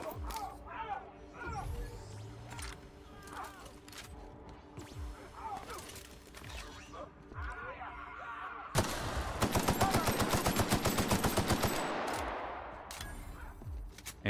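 Rapid, steady volley of game gunfire from a shotgun, loud and dense for several seconds after a stretch of quieter play with talking.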